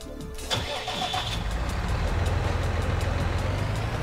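A vehicle engine in Farming Simulator 19 cranks and catches, then settles into a steady, loud mid-pitched running drone as the vehicle pulls away on a farm map.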